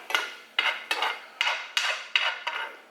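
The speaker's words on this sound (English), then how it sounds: "I'm going to give it a stir" A spoon scrapes and knocks against a pot on the stove top as stuffed-pepper filling is stirred, making about seven evenly spaced scraping strokes, close and clear with no talk.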